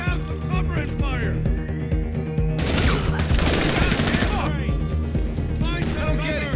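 In GTA Online's Diamond Casino Heist, done the aggressive way, gunfire bursts in rapid volleys with crashes mixed in. Game voices shout over the steady loud combat.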